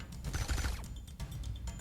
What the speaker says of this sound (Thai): เสียงปืนใกล้เลยนะ